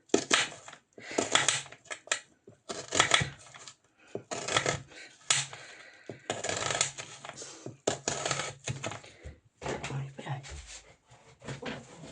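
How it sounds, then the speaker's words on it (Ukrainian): A knife dices an onion into cubes on a cutting board, rapid close rhythmic chopping in quick bursts separated by short pauses. "Цибулинку ми нарізаємо на кубики."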